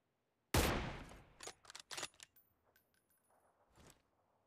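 A loud M24 sniper rifle shot in a battle royale video game, followed by a quick rattle of bolt and mechanical clicks, then a faint trailing crack.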